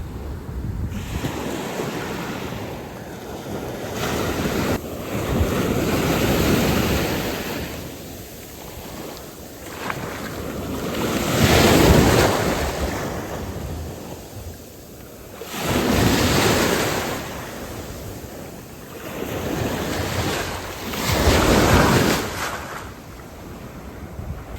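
Ocean waves on a beach in Oman surge and recede in slow rolling swells several seconds apart, with loud crashes, hissing wash and gusts of wind buffeting the microphone.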